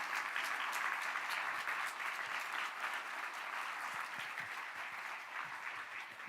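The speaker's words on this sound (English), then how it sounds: "Give brother another round of applause" Clapping from a gathered audience at a Sunday devotional program, continuous and even throughout, fairly close and with no talking over it.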